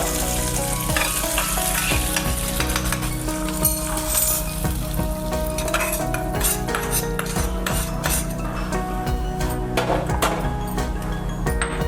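Peanuts and green chilies sizzle and fry in a pan close up, with a constant crackle under repeated scraping and clinking of a metal spatula as they are stirred.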